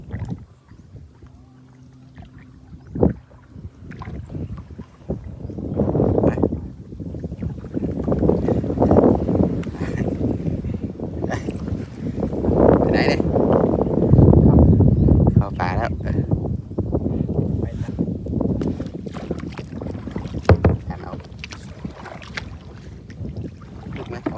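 A kayak is paddled through a nature setting at a botanical garden in Rayong, Thailand, with repeated paddle strokes and water swishing, gusts of wind noise, and someone speaking now and then.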